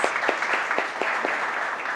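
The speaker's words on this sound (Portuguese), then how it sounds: "Vou pedir para vocês baterem palmas para ele." A hall audience at an indigenous education event applauds in a dense, even wash of many hands. A few slightly stronger claps stand out at a regular pace through the moderately loud, steady sound.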